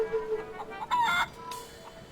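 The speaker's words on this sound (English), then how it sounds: "Let's talk to the chicken." A chicken in The Curse of Monkey Island video game gives short clucking and crowing calls, brief and moderately loud, mixed with game sound effects and no talk.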